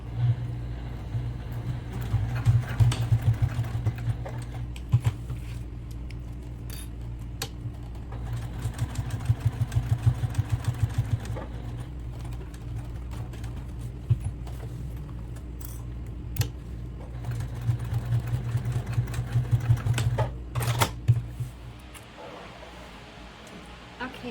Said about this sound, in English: So here we are at the sewing machine, and I'm going to start to sew.